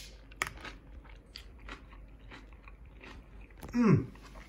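Miyama brand kimchi from a Japanese market in Yokosuka is chewed close to the microphone, with soft wet crunching bites and one louder crunch near the end. Brief murmurs and a mouth sound come in between.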